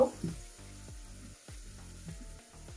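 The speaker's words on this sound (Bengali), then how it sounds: "এখন এর মধ্যে দিয়ে দিব 1 টেবিল চামচ রসুন কুচি। ভালোভাবে ভেজে নেব।" Chopped garlic frying in ghee in a pan, a quiet, steady sizzle with a brief louder burst at the start, heard alone without talk.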